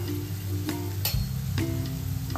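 Onions with salt and sugar frying in a pan for red sauce pasta, a steady close sizzle with scraping stirring strokes and clinks of the utensil against the pan.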